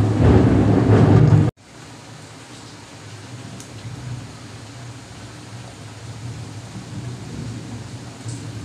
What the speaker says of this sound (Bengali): আজকে আমাদের চট্টগ্রামে প্রচুর বৃষ্টি শুরু হয়েছে